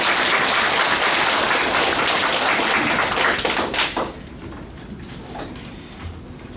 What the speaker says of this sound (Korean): 큰 박수 한번 주시죠.